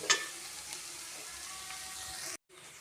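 Onions fry with turmeric in a pan for chicken curry, a steady close hiss of sizzling oil that runs without a break and then cuts off abruptly near the end.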